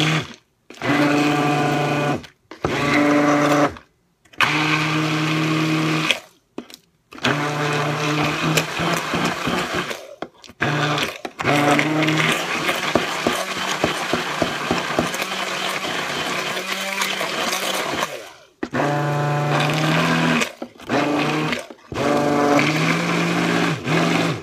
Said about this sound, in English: I'm going to take my immersion blender